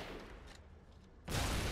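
Gunfire in a war video game: a steady low rumble of distant shots, then a sudden loud burst of close firing in the final half second.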